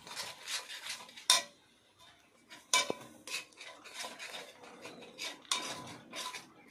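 Almond powder is stirred into sticky sugar syrup in a pan for almond barfi, producing quiet intermittent scraping with a few sharper metallic clinks against the pan, with no talking.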